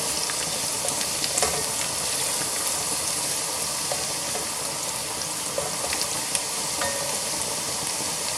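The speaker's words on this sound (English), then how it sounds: "As you can see, the garlic's getting to brown now." Garlic browns in a pan as the start of a salmon curry, a continuous close sizzle with faint pops and occasional light clicks, and no voices.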